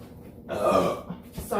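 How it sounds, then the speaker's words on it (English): A woman lets out a burp from the middle of the clip, one voiced eructation lasting under a second with a short throaty tail, set against a quiet room between bits of talk about beer. "I'm gonna be burping a lot."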